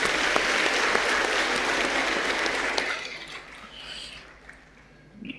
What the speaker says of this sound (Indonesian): Mari kita sekali lagi berikan tepuk tangan untuk anak-anak kita